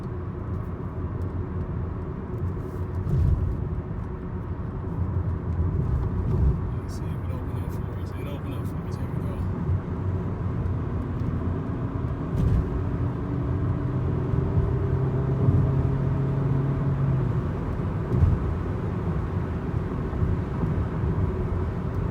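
A 2003 Toyota Camry drives along a road and picks up speed, giving a continuous low engine and tire rumble heard from inside the cabin, with people talking over it.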